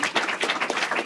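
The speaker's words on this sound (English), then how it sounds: "So you guys give a huge round of applause" A short burst of crowd applause, dense overlapping claps filling the space steadily at moderate loudness.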